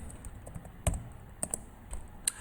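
Searching on a computer keyboard, with scattered, moderately quiet key taps at an irregular pace, a few louder strikes standing out over a faint room background.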